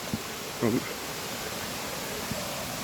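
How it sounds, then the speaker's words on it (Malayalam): A steady, broadband rush of falling water from a waterfall at Vattavada fills the whole stretch, with a few brief voice fragments breaking through. "അവിടെ നിന്നാണ് ഈ വെള്ളം ഇങ്ങനെ ചാടി വരുന്നത്"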